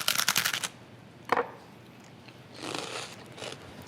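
Crisp crunching bites into homemade buttered toast topped with sea salt and cracked black pepper, a quick burst of close crunches, a single sharp crack, then softer chewing crunches, with no talk.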